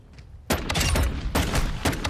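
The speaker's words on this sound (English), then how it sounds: "Satisfying using a pistol." Rapid pistol shots ring out in a shooter video game, a loud cluster of sharp cracks starting abruptly and repeating in quick bursts with no talking.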